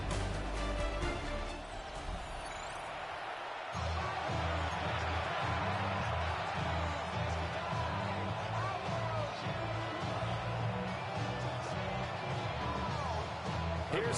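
A home crowd fills Soldier Field during a Chicago versus Detroit game in Madden 26, a steady low roar of stadium noise running throughout, with a rhythmic pulsing chant or drum pattern building after the first few seconds.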